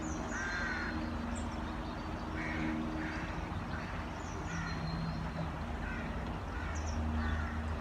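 Ducks quacking at a duck park, with faint, distant quacks repeating in small bursts over a constant, fairly loud outdoor wash of noise.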